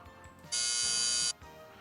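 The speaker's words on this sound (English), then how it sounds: "We need a good buzzer sound. How about this one?" A loud, flat electronic buzzer blares steadily for just under a second, then cuts off abruptly amid quiet background.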